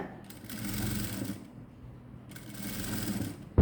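A sewing machine stitches a blouse along its canvas lining, following a round cup-dart shape on a 48-inch blouse; two bursts of steady whirring run close by, separated by a short pause, ending with a brief thump.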